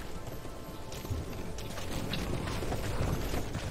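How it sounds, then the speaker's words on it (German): Galloping hooves of a horse in a video game make a steady, fast clip-clop rhythm over mechanical game noise, getting slightly louder toward the end. "Er mit seinem Pferd rennt erstmal überall hin."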